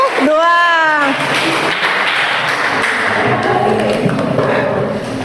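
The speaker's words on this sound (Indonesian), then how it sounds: "beri tepuk tangan kepada kelompok 2" Students in a school classroom clap for a presenting group, a brisk wash of hand claps lasting several seconds after a short tonal squeak at the start.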